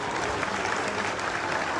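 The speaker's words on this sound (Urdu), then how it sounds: "افضل چامڑیا بھائی کے لیے زوردار تالیاں ہونی چاہیے" Enthusiastic applause from an audience at a Karachi University signing ceremony, dense steady clapping filling the space for a short burst without pause.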